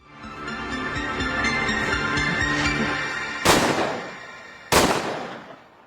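Two sharp, loud gunshots in a film ring out a second apart over a dense, rumbling cinematic background.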